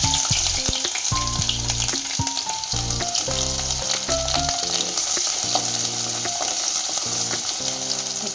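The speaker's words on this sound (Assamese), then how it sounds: "পিঁয়াজ দি দিম" Onions hit hot mustard oil in a wok for a meal of steamed Ilish fish and leta polu, producing a loud, unbroken, close-up sizzle with faint stirring.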